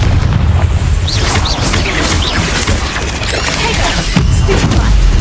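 Confringo fire spell blasts in the Hogwarts Legacy video game, a dense run of loud booming explosions and crashes with crackling debris, layered over continuous combat noise.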